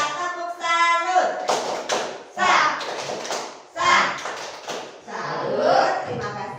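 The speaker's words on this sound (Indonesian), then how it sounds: "Tepuk salut." A primary classroom group claps a patterned salute clap together, a short rhythmic run of hand claps and chanting children's voices following a teacher's lead.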